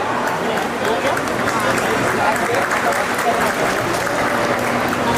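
Applause for support staff at a charity shopping press conference, a steady crowd clapping that fills the space evenly while voices murmur and talk underneath.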